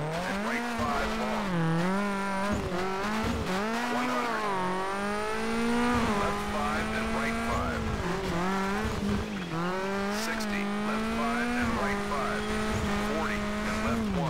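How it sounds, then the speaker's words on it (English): A Citroën C4 rally car engine in Colin McRae: DiRT revs hard and continuously, rising and dipping in pitch with gear changes and tire squeal, loud throughout. "Quit revving like that."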